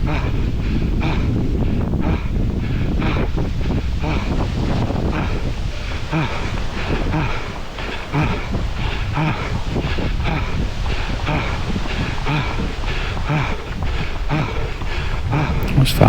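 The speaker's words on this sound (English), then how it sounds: "Still getting a few gusts of wind on this little bit just here." Gusts of wind buffet the microphone on an exposed stretch of a parkrun course in Woodlands, Scarborough, a continuous low rumbling roar with surging peaks throughout.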